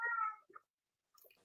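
A house cat gives one clear, close meow, then makes a short softer sound, and a faint noise follows after a brief silence.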